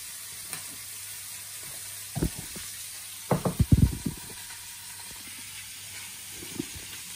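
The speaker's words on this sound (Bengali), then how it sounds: "এই তরকারিটা রান্না করছি, আলু দিচ্ছি, ডাঁটা দিচ্ছি, আর কাঁঠাল দিচ্ছি, আর দিচ্ছি চিচিঙ্গা" A pan of curry with potato, vegetable stems, jackfruit and snake gourd cooking, a low steady sizzle broken by a cluster of louder clattering stirs and scrapes near the middle, no talking.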